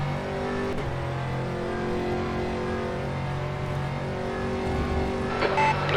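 An LMP3 prototype race car in a sim racing game at Virginia International Raceway holds a steady, loud engine drone with harmonic whine, continuous throughout, with a slight shift in pitch near the end.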